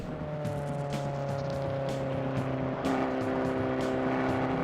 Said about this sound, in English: But now we're driving the Abarth 500